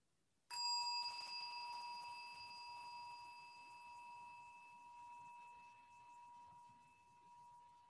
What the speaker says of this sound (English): So you can slowly open your eyes once you finish hearing the gong.